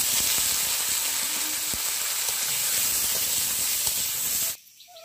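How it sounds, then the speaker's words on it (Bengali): Potatoes frying in a small amount of hot mustard oil, a steady loud sizzle with faint stirring scrapes that cuts off abruptly near the end, leaving quiet. "আলুটা একটু ভাজা ভাজা করে নিয়েছি"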